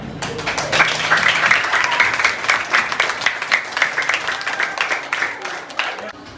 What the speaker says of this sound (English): I think this clapping is in correspondence to their class number